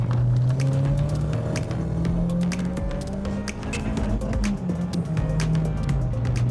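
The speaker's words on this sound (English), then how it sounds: "Yeah, real rapid little car." A Renault Clio Williams driven fast, its engine loud and close with a constant droning note rising and falling slightly as it revs, with no talk.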